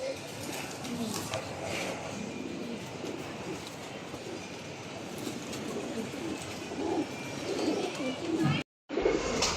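Giribaz pigeons coo softly in a loft or pigeon market, low murmuring calls repeating under a steady hum of background noise and distant voices.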